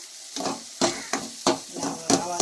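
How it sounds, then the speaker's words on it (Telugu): Mint rice masala frying in hot oil in a pan, a run of sharp stirring scrapes about every half second over a steady soft sizzle, close and fairly quiet. "చూడండి, బాగా వేగుతుంది కదా"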